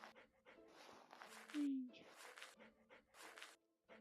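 A puppy pants in quick, soft breaths with a brief whimper partway through, close by, alongside some movement.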